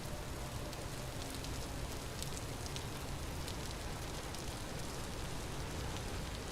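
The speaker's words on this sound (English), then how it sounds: "It's raining out too." Steady rain in the Vintage Story video game during a summer storm, a dense even patter with fine drop ticks that stays constant throughout.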